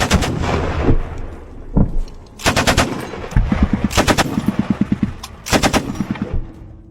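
Machine gun fire rattles during trench combat involving a Ukrainian soldier, loud close bursts of rapid shots alternating with rhythmic single reports, some heavy booms mixed in, no talk.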